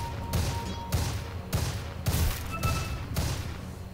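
Gunfire in the video game Dota 2 during an esports match, a regular series of about seven heavy shots roughly half a second apart, each with a thudding low punch, close and loud.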